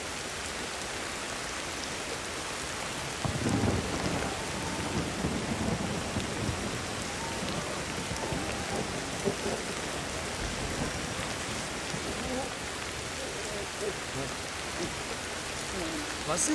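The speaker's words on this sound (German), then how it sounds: "Was sitzt ihr auch im Regen?" Steady heavy rain with rumbling thunder fills a prehistoric jungle scene in the video game Ancestors: The Humankind Odyssey, a continuous wash of downpour with deeper rolls rising and fading.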